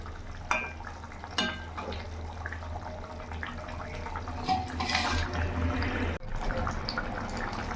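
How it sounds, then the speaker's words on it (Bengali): Silver carp curry simmering in an open pot on a gas stove, a steady bubbling and sizzling hiss with a low hum underneath and a few clinks, swelling slightly toward the end. "মাছ দিয়ে কিছুক্ষণ ফুটিয়ে নেব।"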